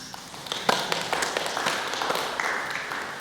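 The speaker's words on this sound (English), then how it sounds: "Please give yourself a round of applause." A congregation at a church service claps briefly, scattered individual claps building into light applause, fairly close and moderate in volume.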